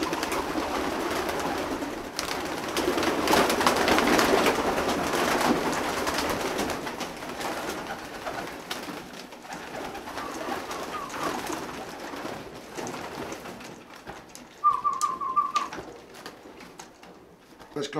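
Racing pigeons coo steadily inside a loft, soft repeated throaty calls layered over a busy background of fluttering and shuffling, with someone talking at times.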